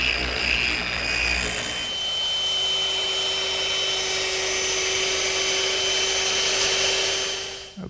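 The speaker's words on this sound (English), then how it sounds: "I don't want to rush this sanding step, because the smoother and more even I get all these joints, the better the routing operation is going to turn out" A power sander works the joints of a wooden mirror frame, a loud, steady whining drone running almost unbroken and alone until it cuts off at the end.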